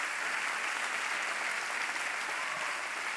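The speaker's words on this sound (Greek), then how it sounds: "ένα μεγάλο, μεγάλο μπράβο και ένα πολύ μεγάλο χειροκρότημα από εσάς." Sustained audience applause at an awards ceremony honoring women of the year, a dense even wash of clapping from a large crowd that holds steady throughout with no voices over it.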